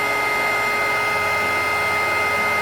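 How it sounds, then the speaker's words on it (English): A heat embossing tool blows hot air over a recycled birthday card, making a loud, steady motorized whir and rush of air, close and continuous from start to finish, with no talking. "we're gonna heat emboss it. This is my heat embossing."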